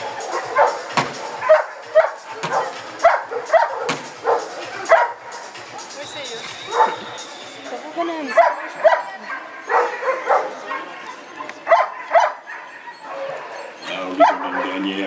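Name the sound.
dog barking during dog training competition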